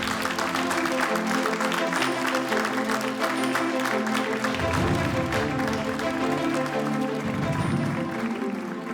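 An audience claps to welcome Olena Zelenska, Ukraine's first lady, at a public gathering; dense, even applause runs throughout over steady background music.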